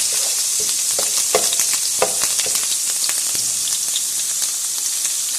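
Ginger garlic paste fries in hot oil for beef masala, a loud continuous sizzle with crackling pops and the scrape of stirring throughout, close up and with no talking.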